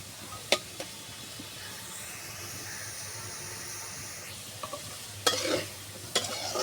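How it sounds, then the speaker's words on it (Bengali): Potatoes frying in hot oil in a pan, a quiet steady sizzle broken by several sharp scrapes and clatters of stirring, with no talk. "লাল করে আগে ভাজে নিচ্ছি আলুগুলো"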